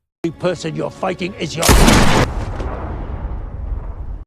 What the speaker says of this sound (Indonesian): Eve langsung melesatkan tembakan yang seketika membuat konselor koat